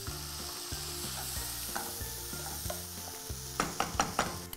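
Chopped tomatoes sizzle in a pan with Kashmiri chili powder and green chilies, a steady frying hiss under a low hum, followed by several sharp scraping stirs toward the end.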